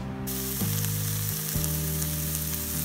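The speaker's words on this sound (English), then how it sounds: "reheating, sauteing the meat and vegetable mix." Vegetarian fake chicken and mixed vegetables sauté in a pan at a campsite, giving a steady close sizzle that runs unbroken throughout, with no voices.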